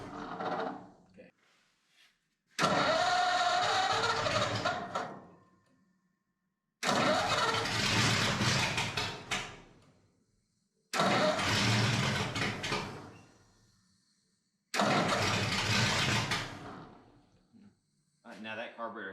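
Flathead Ford 8BA V8 being started for the first time, with a carburetor not yet rebuilt, heard in four loud cranking-and-running bursts of a few seconds each, separated by quiet gaps, with people talking faintly nearby.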